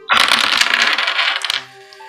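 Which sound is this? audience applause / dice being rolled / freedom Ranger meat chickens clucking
dice being rolled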